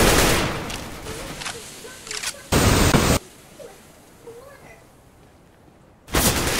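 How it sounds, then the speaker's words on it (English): A flashbang grenade in the Counter-Strike: Global Offensive shooter goes off as a sharp, loud burst of noise lasting under a second, followed by quieter game sounds and a second loud burst near the end. "Throwing a flashbang."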